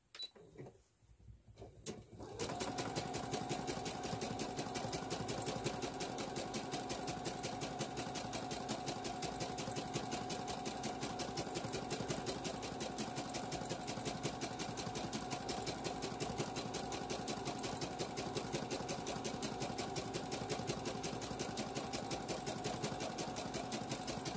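A sewing machine quilting a fabric notebook cover runs in one steady, continuous stretch after a brief quiet start, its rapid needle chatter close and unbroken with no voices.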